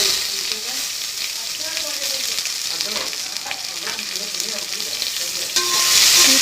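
Onion and tomato hit hot oil in a pan for a mushroom biryani, giving a steady, dense sizzle and crackle that runs without pause and swells louder near the end, with no one talking.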